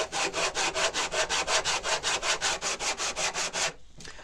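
A wooden tray edge is hand-sanded with a block in fast, even back-and-forth strokes, about eighteen rhythmic scratchy rasps up close before stopping.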